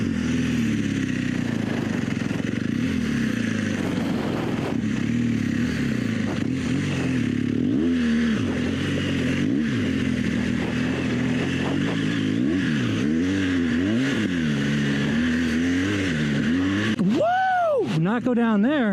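A BMW R1200GS motorcycle on Michelin Anakee adventure tires riding through a sand wash, its engine droning and rising and falling in pitch as the throttle is worked, with loud wind rumble throughout and revs climbing sharply near the end.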